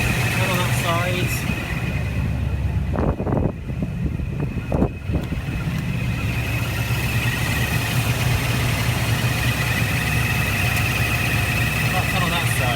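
A Rover SD1 V8 with freshly balanced carburettors idles steadily at close range, a continuous low rumble broken by a few brief louder bursts early on, with wind buffeting and faint background speech.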